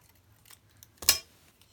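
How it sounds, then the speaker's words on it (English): A pair of scissors picked up during papercraft work on Christmas ephemera, giving one brief metallic snip-clack near the mic in an otherwise quiet room. "Oh, don't pick up the wrong scissors, Rachel."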